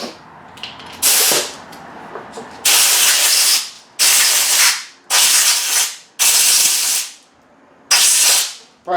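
Compressed air bursts from a nozzle to clean crud off the flywheel magnets of a 1995 Murray rear-engine rider mower, five or six loud hissing blasts of a second or so each, separated by quiet pauses.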